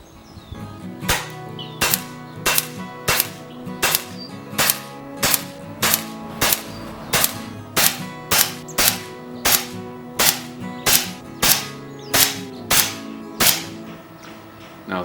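An FX air rifle fires .177 slugs of 13 grains in a long, steady series of about twenty sharp, close pneumatic cracks, evenly spaced with short pauses between shots and no talking.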